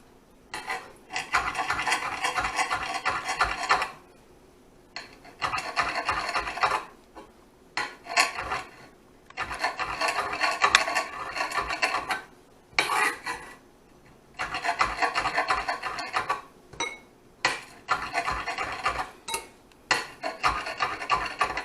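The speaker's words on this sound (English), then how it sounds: "We're just going to cut it into some strips." A knife saws through zucchini and squash, cutting them into strips on a board. Bursts of rasping cuts repeat in a steady rhythm, separated by short pauses. The sound is close and moderately loud, with no talking.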